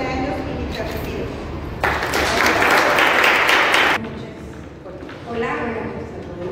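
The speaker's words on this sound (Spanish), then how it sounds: "un fuerte aplauso a todos los que se han sumado en este proyecto durante 11 años ininterrumpidos" Audience at an art gallery event bursts into a short round of applause lasting about two seconds, with speech and room noise before and after.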